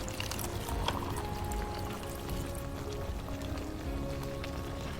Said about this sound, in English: take this milk and pour it in. Nice and slow.